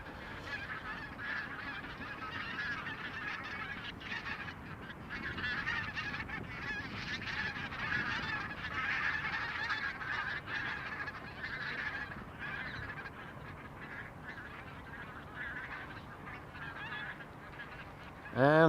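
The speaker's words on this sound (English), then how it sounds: "Also a shitload of geese." A large flock of geese honks continuously at Amsterdam Schiphol Airport, a dense, overlapping chorus of calls at moderate distance that swells in the middle and carries on throughout.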